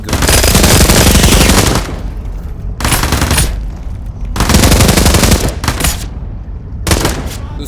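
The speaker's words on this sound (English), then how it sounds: "The machine gun." Automatic machine-gun fire in the video game Into the Radius 2, loud and close, in three long sustained bursts with short pauses between, plus a brief final burst.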